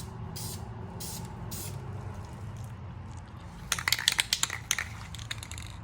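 Short bursts of spray paint hiss onto the rear end of an Acura TL, a few puffs early then a rapid cluster of close sprays near the end over low background hum.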